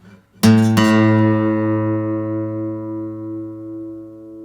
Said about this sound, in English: Play them both and use your right hand while it rings out.